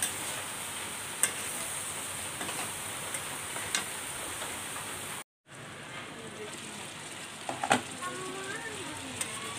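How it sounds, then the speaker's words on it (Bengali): Curry sautéing and being stirred in oil gives a steady, fairly faint sizzle with scattered ticks and spatters, broken by a brief moment of silence and a few sharper scrapes afterward. "তা আমি 3-4 বার আরও নাড়ছি, এইভাবে আমার কষানি হয়ে গেছে তরকারিটা"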